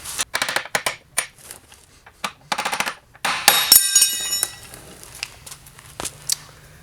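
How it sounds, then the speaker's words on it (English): Sharp metallic hammer strikes in irregular bursts, some rapid clusters, close and loud, with ringing overtones on a few hits, as old carbide is hammered out of a snowmobile ski. "now it comes time to hammer out or remove the old carbide out of the"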